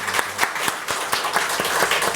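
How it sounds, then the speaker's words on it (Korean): A church congregation claps in thanks for its worship team, a brief burst of brisk, fairly loud applause with rhythmic hand claps filling the room. "우리 한번 감사의 박수 드립시다"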